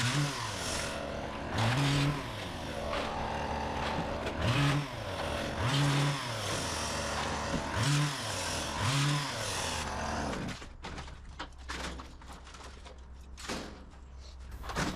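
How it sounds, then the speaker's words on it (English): A petrol chainsaw revs up and down in repeated surges, a rhythmic whine rising and falling, then gives way to scattered knocks and clatter. "we can see that that chainsaw is so much more powerful than our electric one"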